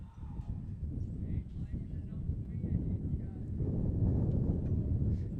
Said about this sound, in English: Wind really starting to gust here.